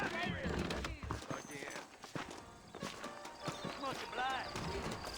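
Horse hooves clip-clop in the Western video game Red Dead Redemption, a steady walking rhythm close by under game music and frequent voices talking over it.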